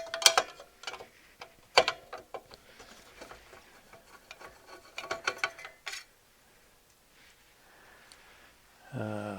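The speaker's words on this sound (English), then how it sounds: "Always carry a long screwdriver for these hard to reach screws" Screws being undone with a long screwdriver from the aluminum heat sinks inside a Sony TA-F60 integrated amplifier: close, quick ratcheting clicks and metallic ticks in irregular bursts, fading to near silence, then a short low knock at the end.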